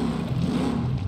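An ETK inline-six car engine in the video game BeamNG.drive hums and revs with a deep, steady drone, its pitch shifting slightly through the brief moment.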